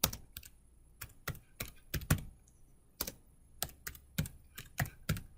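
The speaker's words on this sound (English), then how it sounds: "And I start typing." Someone types on a computer keyboard, with quiet, close, irregular key clicks in short bursts and gaps.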